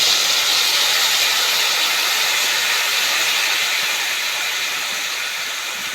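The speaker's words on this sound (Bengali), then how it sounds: "এখন সর্ষে বাটার জলটা দিয়ে দিচ্ছি।" Mustard paste water poured into a hot pan while cooking shol fish, giving a loud, steady broadband hiss of sizzling steam that fades slightly toward the end, with no talking.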